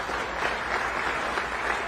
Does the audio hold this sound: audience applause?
yes